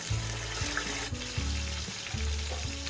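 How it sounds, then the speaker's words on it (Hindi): One onion fries in two cups of hot oil, a close, steady sizzle and crackle with soft bubbling pops throughout. "ये 2 कप हमने ऑयल लिया है, 1 प्याज, 5 मिनट हम फ्राई करेंगे।"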